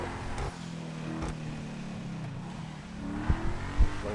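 Engine of a Bentley-styled car in the racing game Burnout Paradise, a steady droning motor note with shifting pitch as it decelerates, a couple of sharp pops near the end, no talking.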